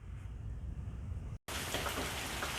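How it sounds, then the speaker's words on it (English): Heavy rain pouring down outdoors at the start of a storm, a dense steady hiss that cuts out briefly and then returns even louder and fuller. "it is really raining out here"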